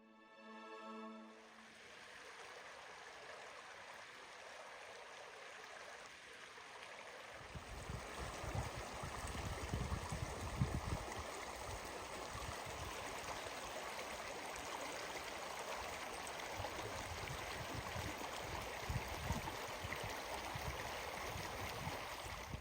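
The South Fork of Prosser Creek in a snowy valley flows as a steady, broad rushing hiss that grows fuller after a few seconds and stays constant throughout, with no voices.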